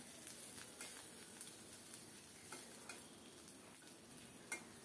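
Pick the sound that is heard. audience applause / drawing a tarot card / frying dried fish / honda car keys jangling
frying dried fish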